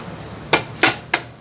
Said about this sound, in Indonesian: Terus pukul ke bawah pakai palu karet ya